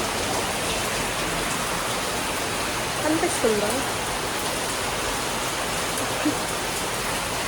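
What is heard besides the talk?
rain falling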